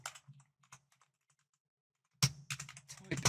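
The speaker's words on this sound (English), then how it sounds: "So we can come in with a question, type in the text" Keystrokes on a computer keyboard while entering text into a chatbot builder: sparse, light clicks at first, then a pause, followed by a faster, louder burst of typing near the end, with no talking.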